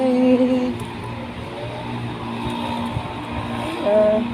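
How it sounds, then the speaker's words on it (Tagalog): A scooter, likely a Yamaha Mio, hums past outdoors on a cool night. Its engine whine sits over a steady broad noise and swells slightly toward the end. "May scooter pa. Narinig nyo? Scooter yun."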